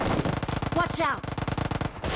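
Rapid automatic gunfire from PUBG Mobile's Hangar gun-game mode rattles steadily through the whole stretch, loud and close, with brief voice chatter and game sounds layered over it midway.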